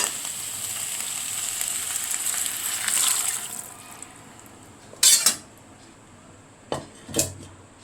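Vegetable cooking water heating in a pan as a steady, soft hiss and simmer, followed by a few sharp clinks and scrapes of a utensil against the pan, with no talking.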